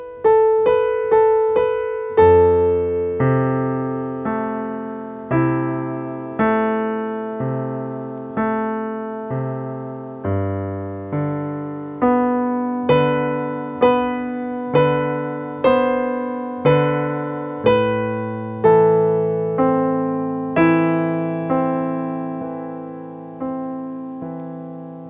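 Solo piano plays a passage of a piece, with a gentle repeating melody over low held bass notes, clear and close with no talking.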